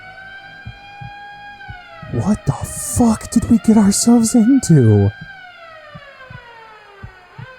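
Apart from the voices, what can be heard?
police sirens getting louder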